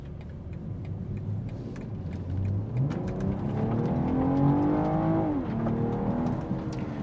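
A BMW M440i gas sports sedan accelerates hard from a stop sign turn, its engine note climbing steadily in pitch, dipping briefly at a gear change, then pulling again, heard from inside the cabin with constant road rumble.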